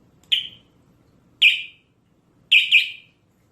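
A KUCHANG electric bicycle alarm sounds four sharp electronic chirps, alone and close: single bursts spaced about a second apart, then a quick double beep at the end.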